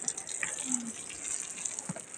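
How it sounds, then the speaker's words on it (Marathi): Water is poured onto soil planted with fenugreek, making a soft, steady gushing splash close by that lasts for about two seconds without any speech. "ऐसा पाणी टाकल्याने प्रेशर नाही पडत."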